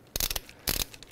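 Torque wrench tightening a swingarm locking nut on a BMW R90/6 motorcycle, three short close bursts of ratcheting clicks in quick succession.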